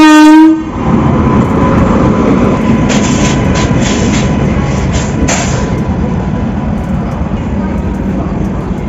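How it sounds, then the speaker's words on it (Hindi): A Shatabdi Express hauled by a Kanpur-shed WAP 7 electric locomotive rolls into platform 4 at Lalkuan Junction, opening with a loud horn blast before a steady, roaring rumble of wheels and carriages passing close by. "फाइनली अपनी शताब्दी एक्सप्रेस 5 मिनट डिले के साथ अराइवल होता हुआ लाल कुआं जंक्शन रेलवे स्टेशन के प्लेटफॉर्म नंबर 4 पर"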